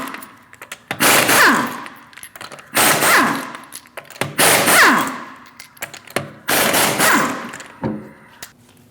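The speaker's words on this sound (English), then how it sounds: "Remove the 5 lug nuts using a 19mm socket." Power impact tool zipping off the five 19mm lug nuts of a Chevrolet Malibu rear wheel: four loud, rattling bursts of about a second each, separated by brief pauses, close to the listener.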